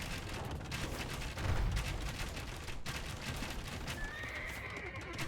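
Within a strategy video game, a horse whinnies and hooves clip-clop amid a busy layered battle soundscape, with distant gunfire-like bursts and a steady background mix.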